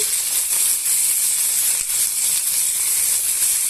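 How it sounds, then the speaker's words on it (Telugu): Chopped garlic and other chutney ingredients fry in hot oil, giving a steady, loud sizzle and hiss that runs unbroken from start to finish. "ఇప్పుడు ఇందులోనే వెల్లుల్లి రవ్వలు కూడా యాడ్ చేస్తామండి ఇప్పుడు మనం ఇవన్నీ కూడా బాగా వేయించేసుకుందాము"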